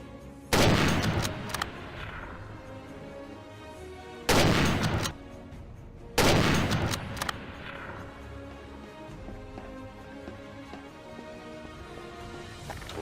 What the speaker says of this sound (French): J'ai peur que le flic entende les coups de feu en fait.